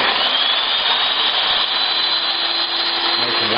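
A Porter Cable router spindle on a Gerber CNC router runs at steady high speed, a loud, continuous bright whine with broad bearing hiss that holds even throughout.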